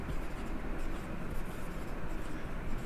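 A pen scratches on paper in soft, continuous strokes close by, quiet and steady as accounts are written out.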